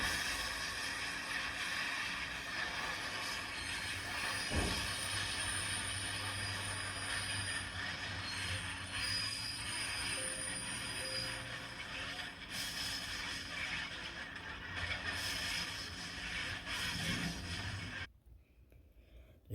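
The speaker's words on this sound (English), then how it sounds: "The train slams off into the landslide, and the containers, which were actually filled with trash, went everywhere." Freight train of about 69 loaded intermodal cars running into a landslide after a washout; a loud, continuous rumble of rolling cars with a sharp impact thud and metallic screeching, ending abruptly in near silence.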